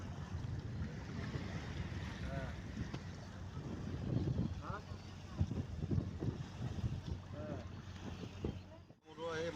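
A boat moves along the Brahmaputra river with a low, steady engine-and-water rumble and gusting wind, while people talk over it.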